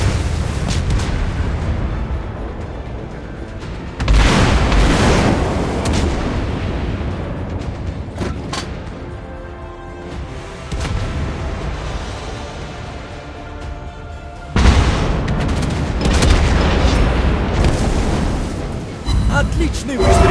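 Warship cannons in the naval game World of Warships Blitz fire repeatedly, each heavy boom followed by rolling explosions, loud and close, with game voice lines spoken over the battle noise.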